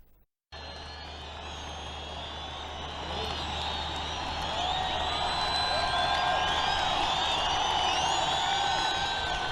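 A huge crowd at an inaugural ceremony in Masqal Square roars and whoops in a continuous, dense wash of cheering that swells louder partway through, with a low rumble underneath.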